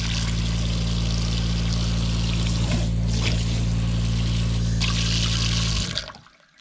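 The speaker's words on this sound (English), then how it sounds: "our RV pump comes on and off automatically" A small RV water pump in an off-grid cabin runs with a steady, loud mechanical hum and rushing water flow for about six seconds, then cuts off abruptly into near silence.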